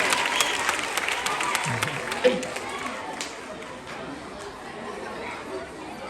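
An audience at a school prefect election announcement claps for one of the selected candidates. The loose applause is loudest at first and then thins out under steady chatter and a speaking voice.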